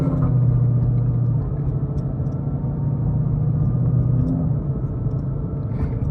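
A vehicle with a Stage 3 RSA 10R80 transmission pulls away on its first drive, a steady low engine rumble and road noise heard from inside, with a brief shift in tone partway through.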